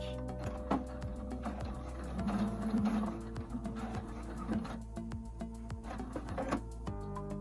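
A sewing machine stitching a straight seam with a back stitch: a quiet, rapid mechanical clatter with a faint motor hum and a few sharper clicks, heard close and alone.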